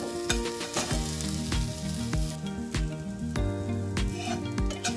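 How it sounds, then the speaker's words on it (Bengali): Onions fry in a pan with a loud, continuous close sizzle and the scrape of stirring, while music plays softly in the background. "এই জন্য একটু ভাজা ভাজা করে নিচ্ছি।"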